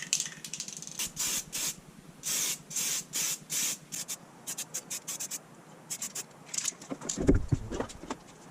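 Repeated short hissing bursts of an aerosol spray can painting brake calipers on a Lotus Evora, close and loud, separated by brief pauses, with a low thump near the end.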